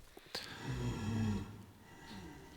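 A blaze spawner working in the video game Super Hostile Spellbound Caves: a low, rumbling breathy sound swells and fades over a couple of seconds, with a brief crackle near the start, moderately close.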